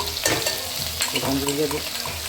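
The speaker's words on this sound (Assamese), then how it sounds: "মাছখিনি দি পেলাই ধুনীয়াকৈ অকণমান ফ্ৰাই কৰি ল'ম" Fish pieces fry in white mustard oil in a pan with a constant, dense sizzle and crackle, loud and close throughout.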